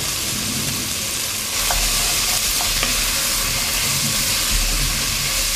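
Nuts, mushrooms and chickpeas fry in a pan while being stirred, a loud steady sizzle with occasional scrapes and clinks and no talking.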